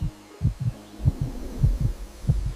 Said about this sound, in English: Heartbeat thump.